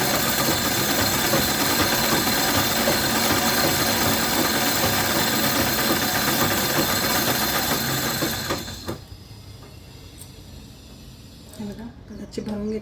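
A home sewing machine runs steadily to wind colored thread onto a bobbin, a continuous whirring hum for about eight seconds before it stops, leaving quieter handling noises.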